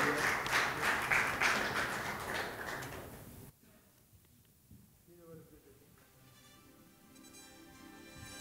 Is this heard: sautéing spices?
no